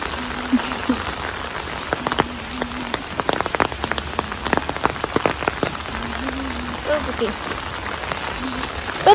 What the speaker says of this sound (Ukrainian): У нас тут дощик.